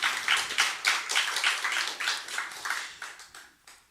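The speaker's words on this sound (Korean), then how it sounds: "우리 강사 목사님께 다시 한번 박수하도록 하겠습니다" Church congregation clapping for a guest pastor at a Sunday worship seminar, a short burst of fairly close, even rhythmic claps that thin out and fade near the end.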